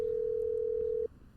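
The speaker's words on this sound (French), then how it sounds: "il y a le téléphone qui sonne, il y a personne qui répond" A steady electronic telephone tone from the video game Tailor Simulator sounds continuously for about a second at even loudness, then cuts off cleanly, leaving faint background noise.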